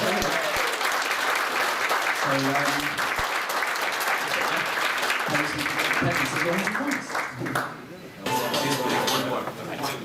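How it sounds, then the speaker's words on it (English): A crowd at the Amiga30UK event gives a guest a lively round of applause, with voices and cheers mixed into the clapping before it thins out near the end. "Let's put a round of applause."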